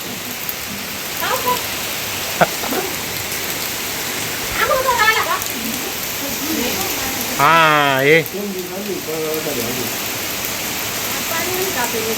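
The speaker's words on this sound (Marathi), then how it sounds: "छत्री घेऊन पाऊस दाखवतो" Heavy monsoon rain hisses steadily throughout in a flooding village while people call out and talk over it, with a brief sharp knock partway through.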